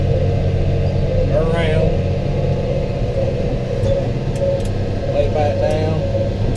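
Kubota tractor engine running steadily while raking hay windrows, a continuous mid-pitched rumble close by with someone talking over it throughout.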